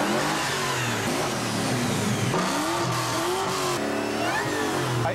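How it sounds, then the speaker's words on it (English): A 2007 Ford Mustang GT V8 revs loudly and up close at a Ford dealership event, its engine note climbing and falling in several surges with a deep rumbling tone throughout. "We're going to go around and hear some heavy-duty V8 Mustangs, and we're going to listen to, in particular, a 2007 GT"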